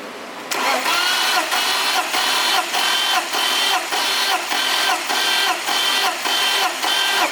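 An engine runs steadily under throttle during a test. It kicks up at the start and then holds a loud, even drone with regular slight pulses. No one speaks over it.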